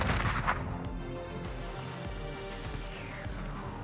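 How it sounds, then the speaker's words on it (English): Gunfire erupts in the battle royale shooter Warzone, with sharp, loud shots clustered at the start and then rumbling echoes and distant blasts, and no talking. "He's shooting them"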